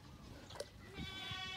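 Goats on a farm give faint, short bleats amid outdoor background noise, distant and soft, one or two calls in under two seconds.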